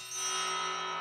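Bell-like metal percussion instruments ring out in a single sustained, shimmering tone that hangs steadily and fairly softly, with a faint new strike near the end.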